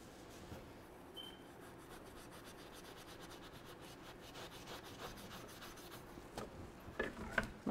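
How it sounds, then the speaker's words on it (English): A magic eraser scrubs a Ninja Foodi grill with soft, uneven rubbing strokes, quiet and close, growing brisker with a few sharper scuffs toward the end and no talking. "Let's try the magic eraser on that."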